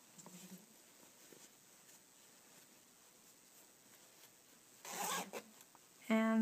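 A handmade square fabric bag with a zipper, rustling and zipping softly while being turned inside out, with brief louder zip bursts near the end and no talking.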